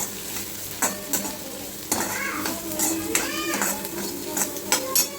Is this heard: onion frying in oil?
yes